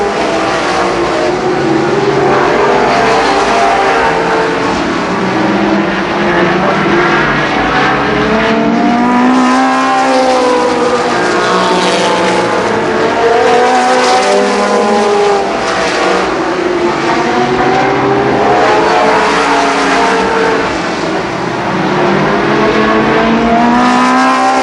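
Race cars circling the oval at Columbus Motor Speedway, a dense continuous roar of several engines rising and falling as they pass, loud and sustained throughout.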